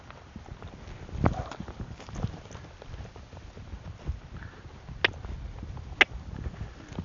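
Young green horse cantering in a training session, soft muffled hoofbeats thudding at moderate distance with a few sharper knocks and light rustling, no talking.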